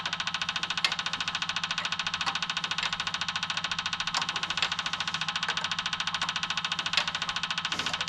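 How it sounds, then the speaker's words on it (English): Small generator engine on a cheap Japanese mini excavator runs steadily, a close, even, rapid knocking idle with a fixed rhythm and occasional louder ticks, with no talk over it. "Because the way that little generator engine"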